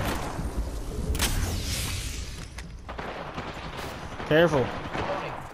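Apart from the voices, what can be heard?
gunfire in a video game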